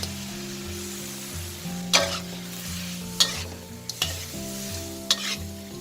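Shrimp go into a soy-seasoned sauce in a pan over low heat, with a steady sizzle and several sharp clinks and scrapes of a utensil against the pan, set over a low, steady background hum.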